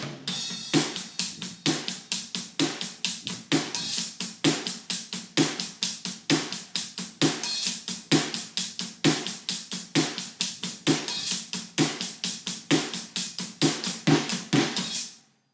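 A drum kit plays the first half of a chorus groove with kick, snare and hi-hat, including an open hi-hat accent, in a tight, loud, steady rhythm of rapid hits with no talking.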